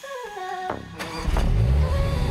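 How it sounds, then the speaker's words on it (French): A sports car engine cranks and catches, then settles into a deep, loud idle rumble after a short startup roar. "surtout quand on entend le démarrage de la voiture"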